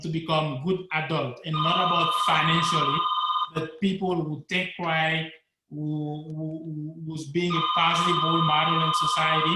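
A telephone rings in a trilling electronic burst twice, loud and close, under a man's steady speech during a chat with a cardiologist.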